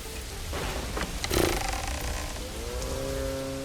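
Steady rain falling in the medieval city-building game Manor Lords, a constant close hiss of drops on surfaces with a brief louder burst partway through.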